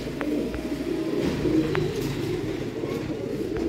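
Pigeons coo softly in low, repeated throaty calls, with a few faint chirps over a light background murmur.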